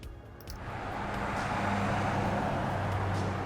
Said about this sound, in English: have it sound like a car is driving by in the background